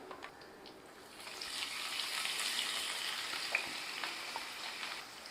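Ground onion paste fries in hot oil. A soft sizzle swells after the first second into a steady, close frying hiss, with a few light scrapes from stirring.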